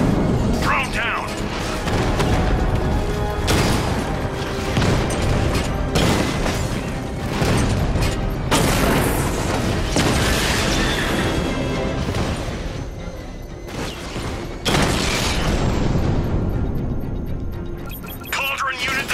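Heavy booms and crashing impacts from a drone being destroyed in Batman: Arkham Knight on PS4, loud and dense throughout under a game soundtrack and character dialogue.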